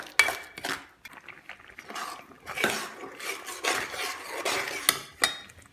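Kashmiri chili powder and salt are stirred in a cooking pot, with a spoon clanking and scraping against the metal in irregular knocks and sweeps, close by and with no speech.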